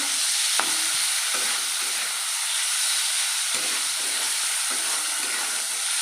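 Five hundred grams of shrimp sizzle and hiss steadily in hot oil in a pan, a loud continuous fry with occasional stirring.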